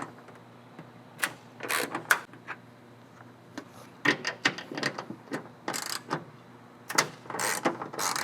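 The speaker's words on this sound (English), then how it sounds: "we're gonna remove these two bolts and install our bracket" Ratchet clicking and clattering as two 12 mm bolts come out of the hood latch area of a 2022 Subaru BRZ / Toyota GR86, in short close bursts of mechanical ticking separated by pauses, with no talk.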